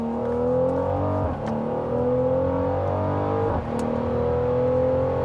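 A Mercedes GLC 43 AMG's V6 engine revs strongly from inside the car, a loud rising drone climbing twice, each climb broken by a brief gear-change dip.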